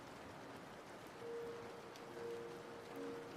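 Outdoor rain plays as background ambience, a soft, steady hiss of falling drops, quiet and continuous, with a faint tone drifting in now and then.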